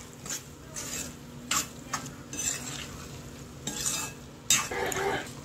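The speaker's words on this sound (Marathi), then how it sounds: "सर्व भाजी मिक्स करून घ्यायची छान" Mashed pressure-cooked broccoli and potatoes for vegan pav bhaji are stirred in a pan, giving repeated scraping and squelching strokes with a light sizzle underneath, close and fairly steady, with no voices.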